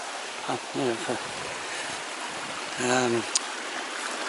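Steady rushing water from streams running through woodland near Betws-y-Coed, Wales, fills the background throughout, a constant wash of noise, while someone speaks a few short phrases over it.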